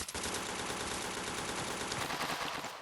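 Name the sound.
gunfire in a shooting video game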